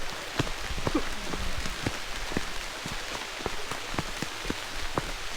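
Steady rain in a forest on Perumal Mudi patters and drips all around, with scattered heavier drops tapping close by against a constant soft hiss.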